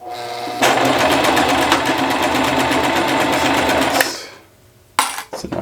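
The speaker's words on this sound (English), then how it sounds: "so now we're going to work on the top stitch portion of this just to keep it all nice and out of the way" A sewing machine topstitches a zippered cushion piece in a rapid, steady mechanical chatter lasting about three and a half seconds, close and loud, then stops abruptly, followed by a brief pause and a few clicks and handling knocks.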